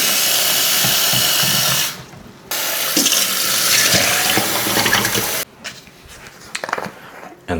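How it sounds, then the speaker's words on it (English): Water pours into a protein drink for several seconds, a steady loud rush that stops briefly and then resumes before giving way to quieter clatter and handling noise. "Just gonna add some more water."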